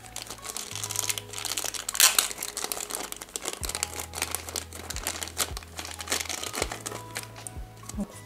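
Small plastic packet from a surprise toy egg being opened and crinkled up close, with continuous rustling and crackling and a few sharper crinkles, heard alone without talk.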